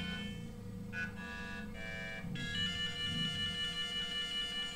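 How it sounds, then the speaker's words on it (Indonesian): A phone ringtone plays for an incoming call, a steady electronic melody of repeating tones that pauses briefly and restarts louder, with a faint background hum. "Ini ada telepon masuk nih."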